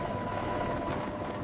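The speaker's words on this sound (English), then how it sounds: "From a chase helicopter, we see a Viper maneuvering skillfully over the mountains." Viper military attack helicopter flying over mountains, a steady droning engine and rotor hum at moderate distance, continuous and unbroken for the short stretch.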